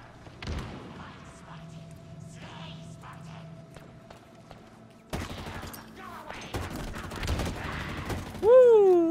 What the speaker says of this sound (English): Let's try a grenade.